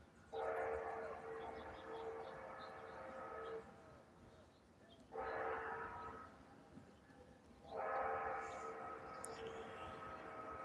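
A train sounds three long, loud horn blasts with pauses between them over a steady low rumble of the rail traffic, on a warm Fourth of July morning.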